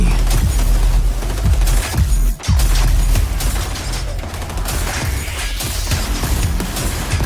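Gunfire and a saw launcher in the video game XDefiant, dense bursts of rapid shots with heavy booming impacts and mechanical clanks, loud and close, one brief lull partway through, no talking.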